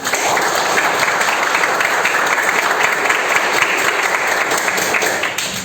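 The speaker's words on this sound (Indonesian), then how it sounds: "Oke, tepuk tangan buat kita." Loud, dense applause from a group of vocational school students fills the room steadily for several seconds, close and continuous.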